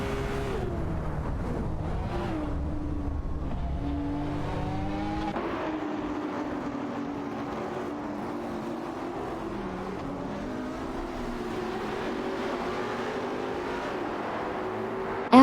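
Race cars in a racing video game, a Porsche Carrera S dueling a McLaren 570S for position, engines droning and revving continuously with shifting pitch, loud and steady throughout with no talk.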